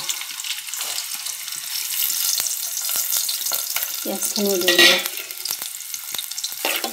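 Raw chopped onions frying in hot oil, a steady close-up sizzle with faint scraping and stirring noises and a brief louder hiss partway through.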